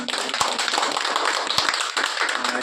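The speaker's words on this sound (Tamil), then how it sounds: "நாங்கள் முதல்ல இயக்குநருக்கு மிகப்பெரிய ஒரு கைத்தட்டலை" An audience applauds a film director at a Tamil film event, with brisk, fairly close clapping and a few sharper claps standing out from the steady patter.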